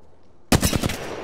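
Gunfire in the Apex Legends video game breaks out suddenly after a quiet moment as a loud, rapid burst of several close shots.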